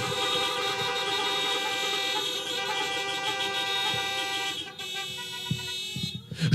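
Several car horns honk together in a sustained chorus at a drive-in church service, overlapping long blasts that hold steady, thin out near the end, then return with a few short toots.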